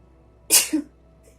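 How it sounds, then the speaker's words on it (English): One sharp sneeze close to the microphone during a quiet indoor tarot reading, a quick breathy burst followed by a short trailing exhale, alone without talk. "I rarely sneeze during readings, but it's been happening a little bit lately."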